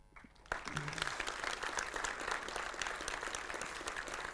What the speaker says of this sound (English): Big round of applause again to Semen.